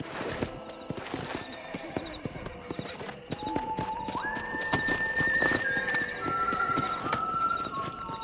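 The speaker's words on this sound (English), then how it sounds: "Eu adoro andar de cavalo." A horse is ridden in Red Dead Redemption, with clopping hoofbeats and a neigh up close. Rising whistle-like tones and game ambience come in partway through, and a little talk sits under it.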